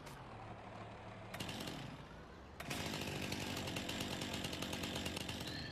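A chainsaw in a John Deere farming video game idles, then revs hard into a loud, buzzing cut that holds steady and close, with no voices.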